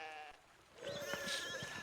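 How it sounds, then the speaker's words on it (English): Sheep bleat in the medieval video game Pentiment, a clear wavering bleat after a brief quieter tone, with several animals close by in a pastoral scene. "Look at all these sheep."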